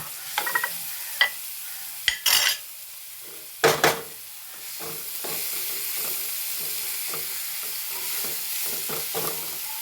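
Kothu chapati frying in two teaspoons of coconut oil as it is stirred, with several sharp scraping strokes against the pan early on, then a steady soft sizzle continuing alone.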